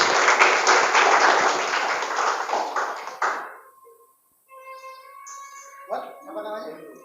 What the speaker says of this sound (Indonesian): tepuk tangan dong buat Pak Suwarna hari ini